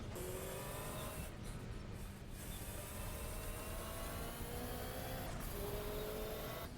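A Group C prototype race car engine at Le Mans in a racing video game drones steadily, a faint continuous engine hum with shifting pitch and no talk.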